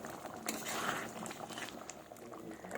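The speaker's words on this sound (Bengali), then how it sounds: "আরও কিছুক্ষণ ফুটিয়ে নেব।" A fish-head moong dal ghonto simmering in a pot, a soft bubbling boil with occasional light clinks, fairly quiet and close, with no talking.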